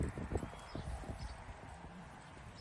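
Hoofbeats of a young chestnut Mangalarga Marchador mare gaiting, a quick, steady run of close clip-clop strikes over faint background noise.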